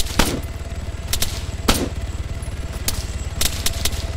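Gunfire in a video game shootout during a bank robbery, sharp shots cracking out in scattered bursts over a constant low engine-like rumble, fairly close with no voices.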